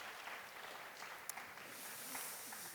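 Faint, distant applause from a church congregation, a dense wash of many hands clapping steadily throughout, with no voices on top.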